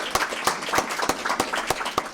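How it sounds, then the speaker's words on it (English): A small crowd at a company ribbon cutting celebration gives a brief round of applause, with individual claps distinct and moderately loud. "So let's give a round of applause for that."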